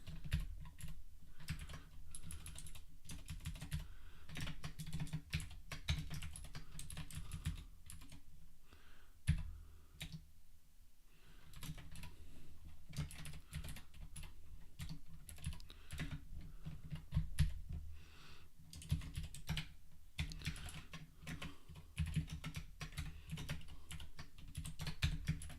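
Fast, steady typing on a computer keyboard, close and fairly quiet, with dense irregular key clicks running throughout and a brief pause near the middle; no talking.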